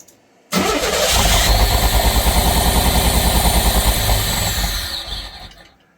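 Pontiac Fiero engine starting abruptly and running rough, barely responding to throttle, with an uneven, pulsing, loud close-up drone that sags and dies away near the end.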